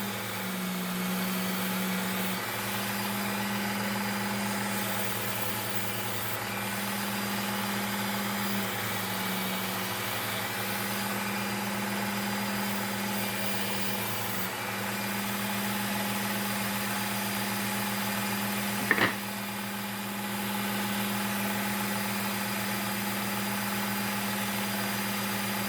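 A Work Sharp Ken Onion sharpener runs at a steady motor whine while grinding a lawn mower blade, a constant hum with a short sharp scrape near the end.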